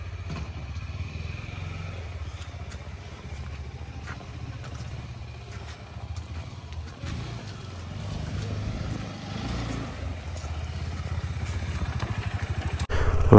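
A motorcycle engine warms up after a cold start: a steady low idling rumble with faint clattering, heard nearby and swelling louder in the final moments.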